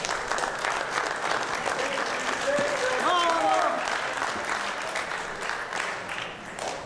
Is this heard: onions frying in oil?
no